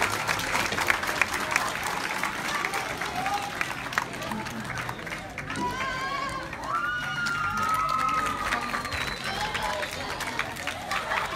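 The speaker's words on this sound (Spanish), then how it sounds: "Un fuerte aplauso para ella," An audience of students and families at a school mathematics fair claps for an honored pupil, a sustained dense applause with scattered cheers and shouts and a few voices rising over it.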